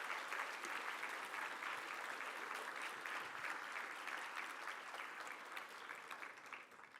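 Audience at a city state-of-the-city luncheon applauding the head table, a steady patter of many hands clapping that fills the room and slowly thins toward the end.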